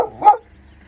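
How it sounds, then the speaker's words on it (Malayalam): A single short, sharp bark from a dog near a small tin shop in a village near Ooty, close and fairly loud, followed by quiet. "പട്ടി കുറച്ച് അലമ്പാക്കുന്നുണ്ട് കേട്ടോ"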